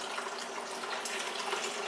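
Homemade organic almond milk pours and trickles through a straining bag, a steady liquid splash and gush that runs without a break.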